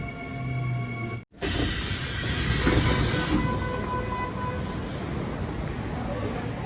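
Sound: subway train

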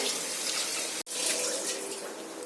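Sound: pouring water into rice for tomato rice

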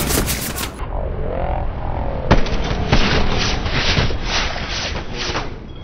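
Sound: grenade explosion in Hell Let Loose (video game)

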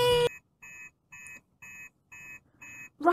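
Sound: master alarm ringing in Fireman Sam cartoon

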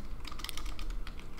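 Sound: typing on a computer keyboard

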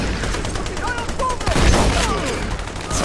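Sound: gunfire in video game Army of Two The Devil's Cartel

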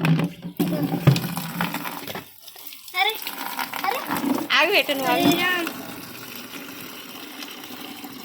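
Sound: child playing with water in a bucket

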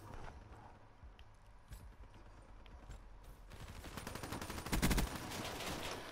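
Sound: gunfire in video game Call of Duty Black Ops 3

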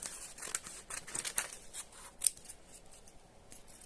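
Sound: scissors cutting out paper labels

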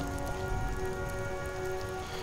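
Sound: rain in the video game Skyrim

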